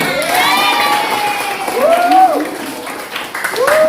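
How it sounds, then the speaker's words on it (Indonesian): Classroom applause from a group of students, a steady broadband patter of clapping with children's voices calling out over it. "Tepuk tangan dulu buat semuanya."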